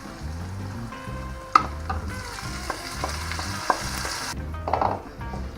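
Pork meat added to a pan of already fried onions sizzles steadily and close up, with a few sharp utensil clicks as it is stirred, and no voices.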